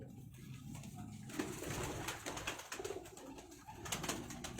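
Pigeons coo repeatedly at close range, their low rolling calls overlapping against a steady background of other birds, in a loft of fancy Rampuri-type pigeons.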